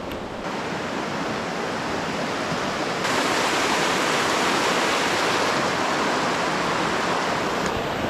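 A river rushes steadily beside an open campsite clearing along a trail in Alaska, a loud, unbroken broadband roar of flowing water with no voices, swelling slightly partway through.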